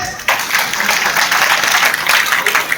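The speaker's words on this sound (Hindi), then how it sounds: "और लोगों को ताली बजाइए जोर से" Loud, sustained applause from a crowd at an Agrawal community association's annual celebration, a dense wash of clapping that starts abruptly and holds steady.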